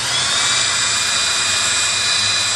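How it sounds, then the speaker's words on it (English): A drill spins steadily to twist wire for a Moebius coil, giving a continuous high whine that stays even and close with no break. "set the drill to turn to loosened screws"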